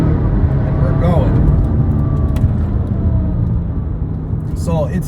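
A BMW M240i accelerates hard in third gear, its engine a loud, steady rumble from the cabin as speed builds, while someone speaks briefly over it.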